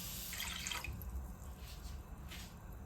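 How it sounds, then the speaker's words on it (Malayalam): Water poured into a cooking pan with sugar to make syrup for Kannur-style muttamala, a soft, trickling splash strongest in the first second and fading to a quieter drip-like wash. "ഒന്നര കപ്പ് വെള്ളം ഒഴിക്കുക"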